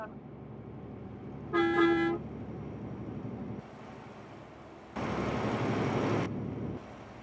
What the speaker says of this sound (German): Kann man auch freundlich hupen.